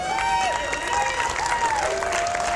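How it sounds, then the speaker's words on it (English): Crowd applause at a youth home run derby at men's nationals, a steady sustained clapping and cheering wash from a large audience, with faint background voices and a tonal whistle-like sound over it. "And the crowd's giving him a nice applause here."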